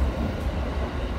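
A Narita Line rapid train runs between Chiba and Tsuga, giving a steady, moderately loud rolling rumble of the cars with no voices.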